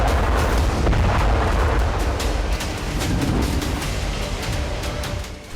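Pinaka multi-barrel rocket launchers fire in a loud, sustained roaring barrage, dense rumbling blasts overlapping continuously with sharp cracks threaded through, no voices.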